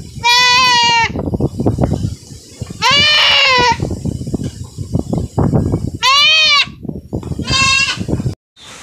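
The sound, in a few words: goats bleating on a farm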